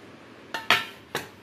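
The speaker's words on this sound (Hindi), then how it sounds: "ये मैं कुकर में डाल रही हूँ।" Chunks of lotus stem dropped into a pressure cooker, giving three sharp clattering knocks against the metal pot in quick succession, close and clear with no talking.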